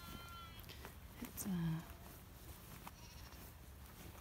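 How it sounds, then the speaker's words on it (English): A lamb bleats once in a field, a faint, distant cry above a soft outdoor background. A person speaks quietly nearby. "the lambs are being pretty noisy"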